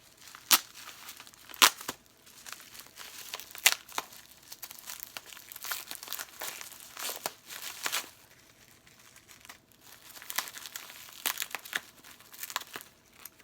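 Heavily taped package from a tool supply box being unwrapped, with sharp crinkles, tearing tape and rustling plastic in irregular bursts, close and moderately quiet, with several crisp snaps scattered through.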